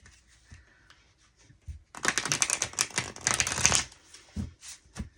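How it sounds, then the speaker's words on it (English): A deck of tarot cards is shuffled by hand, a few soft riffles and taps at first, then a dense burst of rapid crisp flutter for about two seconds before tapering into scattered light taps, close up with no talk. "And I love shuffling this deck."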